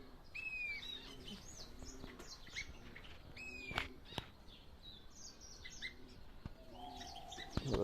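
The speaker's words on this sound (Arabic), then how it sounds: "أوكي، هذا طائر الحسون." Small ornamental birds including a goldfinch call in a morning bird reserve, bright short chirps and twittering phrases scattered through, some near, some farther off, with occasional sharp clicks and wing flutters over a quiet background.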